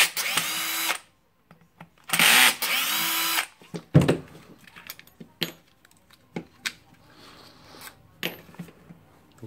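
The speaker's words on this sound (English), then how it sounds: "we need to unscrew two screws." A power screwdriver unscrews two screws from a Makita 9565 1400W 125 mm angle grinder during repair, with two loud whirring bursts followed by small metallic clinks and taps of parts and screws.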